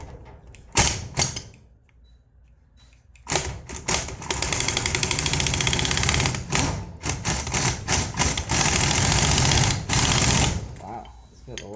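An air impact tool powered by a compressor loosens the standard-thread clutch nut on a Kawasaki KLX140 engine, rattling loudly in a long sustained burst, with a short sputter before it and brief talk and shuffling around it.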